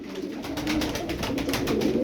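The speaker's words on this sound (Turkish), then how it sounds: "Çok güzel kuşlar var." Arab tumbler pigeons coo in soft, repeated low pulses, close and continuous, with a rhythmic throbbing quality.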